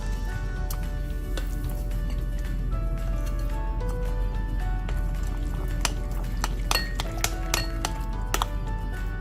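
An egg is mixed into plantain fritter batter in a bowl, giving soft wet squishes and scattered clinks of a utensil against the bowl over a steady background hum.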